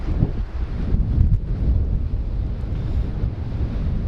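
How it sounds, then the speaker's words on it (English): Strong wind buffets the microphone at a scenic lookout spot, a steady roaring rumble with gusty swells throughout and no talking. "It's getting windy."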